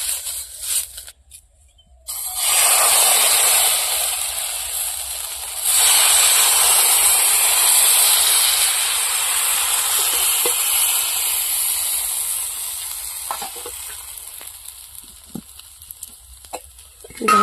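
Oil is smeared in a hot wok and a thin chakli pitha batter goes in, setting off a loud, steady sizzling hiss that swells, stays even, then fades into quieter crackles.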